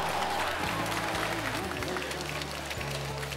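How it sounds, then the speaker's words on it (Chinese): A studio audience at a televised dating show applauds in a steady, moderately loud wash of clapping, with music playing underneath. "他们为什么鼓掌啊？"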